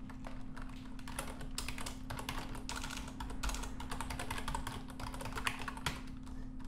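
Typing on a computer keyboard to fill in a test email and password. Rapid, soft key clicks come in bursts and short pauses over a low steady hum, quiet and close.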